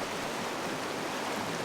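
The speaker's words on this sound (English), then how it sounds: "the river is in full flow." A fast river in the Scottish Highlands rushes in full flow, giving a dense, steady roar of water heard close and alone.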